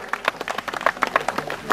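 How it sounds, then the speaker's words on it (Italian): Scattered, uneven clapping from a small crowd at a hillclimb race prize ceremony in Santo Stefano–Gambarie, greeting a podium finisher; the claps are moderately close and last only a couple of seconds. "Forza, un applauso."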